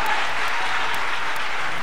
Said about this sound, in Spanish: Oh, aplauda más fuerte a su Señor.